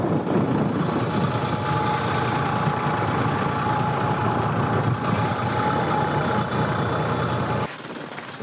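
A farm tractor runs near a loading spot, its engine a steady, loud, close rumble that holds evenly throughout before dropping sharply in level near the end, with no talk.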